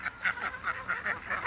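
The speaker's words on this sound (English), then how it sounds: "Alright, there's the ducks." Ducks calling in a backyard farm flock: a quick run of about seven rhythmic, nasal honking calls, fairly close and clear, with no talking.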